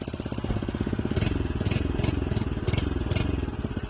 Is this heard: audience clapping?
no